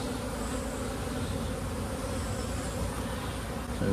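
Honey bees buzz steadily and close throughout an open hive during an early inspection, a dense continuous drone with no voices.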